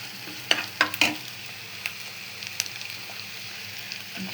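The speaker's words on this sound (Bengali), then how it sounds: "তেজপাতা, এলাচ, পেঁয়াজ তেলের উপর দিয়ে এই যে ভেজে নিচ্ছি বেশ কিছুক্ষণ।" Bay leaf, cardamom, onion and ginger-garlic paste frying in oil: a low, soft sizzle broken by a few sharp spatula clacks and scrapes early on, then quieter stirring.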